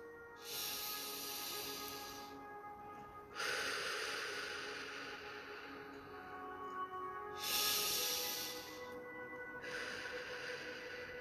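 Slow, deep breaths come close and clear, a long hissing inhale and exhale repeating about twice over several seconds in a quiet room, with no talking.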